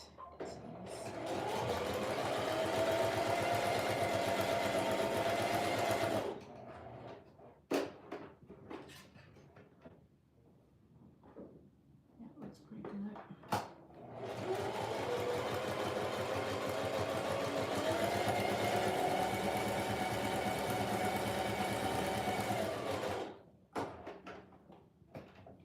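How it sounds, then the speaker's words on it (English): A sewing machine stitches around the edges of a fabric journal cover in two long, fast, even runs, the second longer, separated by a quiet pause with small handling knocks. "I'll just sew around the edges just to make sure that"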